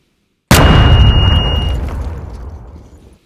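A single loud, sharp blast with a heavy booming body that rolls off slowly over a few seconds, a designed gunshot layer merged with an explosion, redesigned for Need For Speed: Hot Pursuit.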